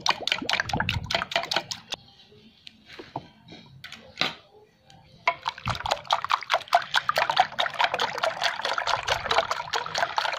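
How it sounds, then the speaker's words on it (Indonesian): Eggs mixed with water are whisked briskly in a bowl for an Indonesian rolled egg snack, producing rapid close clicking and sloshing strokes that pause briefly midway and then resume faster and denser. "Supaya telur gulungnya nggak gagal, kita kocoknya sampai telurnya berbusa ya, sampai ngeluarin busa"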